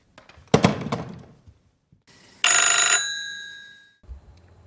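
A telephone bell rings in one bright, sharp burst that fades away. A hollow clunk comes first, and faint scrapes follow, all in a quiet, sparse setting.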